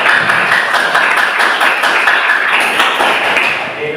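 Applause from a classroom audience at an Indonesian teacher-training session: dense, steady clapping from many hands that lasts about four seconds and tapers slightly at the end.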